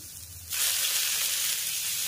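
Neem leaves drop into hot mustard oil in a wok and burst into a loud, close, steady sizzle that holds without pause after a quiet moment, with no talking.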